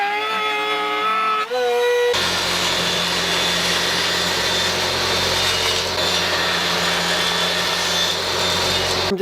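Power saw cutting wood in a home workshop, a sharp tonal start before a dense, continuous loud grinding and rasping roar that holds steady for several seconds and then stops abruptly.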